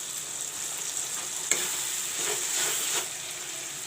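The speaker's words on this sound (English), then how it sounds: "Fry the masalas nicely." Masala spice powders, including turmeric, chili, coriander, cumin and garam masala, fry in a pan for a chicken gravy, a soft steady sizzle with a sharp clink and a few scraping stirs.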